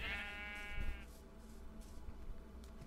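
A single Minecraft sheep bleats near the start, a wavering nasal cry that fades into quiet in-game outdoor ambience.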